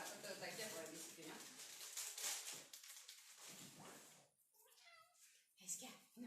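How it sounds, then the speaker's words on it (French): A cat meows a few times during an indoor home livestream, the short cries mixed in with nearby speech, with a voice audible too. "Oui, le chat."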